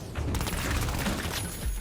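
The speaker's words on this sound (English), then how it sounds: "those sharp pops accentuated against low, booming rumbles, with this quality of space, echo, everything's filling the air around you" Video game gunfire from an Embark title: a dense, continuous barrage of sharp pops over low booming rumble, loud and reverberant throughout with no talking.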